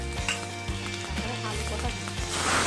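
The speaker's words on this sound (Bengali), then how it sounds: "তেল গরম হয়ে গেছে, শুকনো লঙ্কা, তেজপাতা, জিরে ফোড়ন" Dried chillies, bay leaf and cumin seeds sizzle and crackle in hot oil, a loud, close, continuous frying hiss with small pops and scraping stirs.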